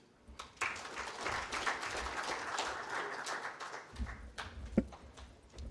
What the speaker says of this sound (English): Maybe you can give him another round of applause.